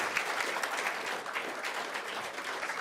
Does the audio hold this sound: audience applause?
yes